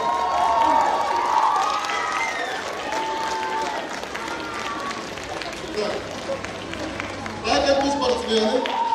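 An audience at an award ceremony for a games and sports event applauds and cheers steadily for the winners, with children's shouts, and a louder burst near the end. Talk is mixed in with the noise.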